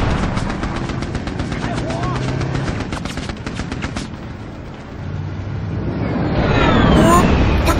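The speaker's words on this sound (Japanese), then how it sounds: "上の人はめっちゃ銃撃ってるけど。" Rapid gunfire from a shooter positioned above in the Mercenaries video game, dense bursts of shots over loud engine or rotor noise, with a voice talking over the action.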